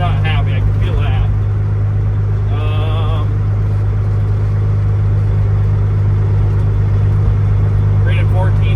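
An old Peterbilt 379 truck engine runs loud and steady while the truck drives, a constant low rumble filling the cab with brief mechanical whines over it and someone talking now and then.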